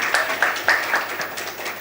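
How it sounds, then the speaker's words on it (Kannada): An audience of children at a Lions Club Karnataka Rajyotsava function in Mangaluru claps for an honoree on stage, a short burst of scattered, fairly close applause. "ಎಲ್ಲ ಮಕ್ಕಳು ಜೋರಾದ ಚಪ್ಪಾಳೆಯೊಂದಿಗೆ ಅವರನ್ನು ಅಭಿನಂದಿಸಬೇಕು"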